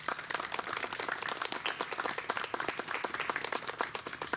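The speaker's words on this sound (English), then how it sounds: "Let's give them a round of applause." A crowd at a Yorktown Victory Day ceremony applauds the fifes and drums of Yorktown, with dense, lively clapping near and fairly loud, rippling continuously without speech.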